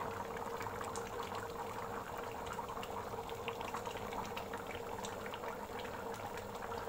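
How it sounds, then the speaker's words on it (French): Sauce simmers and reduces in a pan with a soft, steady bubbling and fine crackle, faint and continuous throughout, with no voices. "On va laisser encore réduire un peu la sauce"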